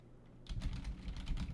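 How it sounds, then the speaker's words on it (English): Fast, forceful typing on a computer keyboard: a steady stream of rapid key clacks starting abruptly after a quiet moment, close and moderately faint, with no talk. "I'm smashing the keyboard"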